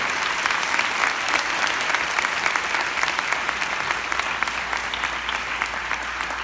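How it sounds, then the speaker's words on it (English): Sustained applause from a large audience of teachers at a school district inservice, dense and steady clapping filling the room for several seconds without speech. "can we give her a round of applause?"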